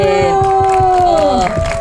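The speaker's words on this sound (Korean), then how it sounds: "박수." An audience at a Korean citizens' mat-style discussion forum claps in a quick, loud rhythm, with voices cheering over the applause close by.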